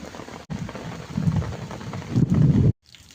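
Heavy rain pours steadily on a rural Gujarati farm road, a dense close hiss of drops drumming on surfaces that swells louder before cutting off abruptly.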